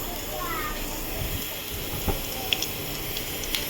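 Oil sizzles in a kadai while lau chingri is being cooked, a steady, even hiss with a few faint clicks and pops, under a quiet voice.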